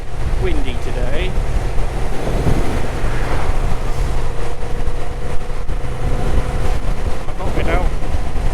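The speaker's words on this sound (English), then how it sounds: "It's pretty windy today." Steady, loud wind roar buffets the microphone throughout a Moto Guzzi V7 motorcycle ride at about 50 on a gusty day, with the engine drone buried beneath the rushing air.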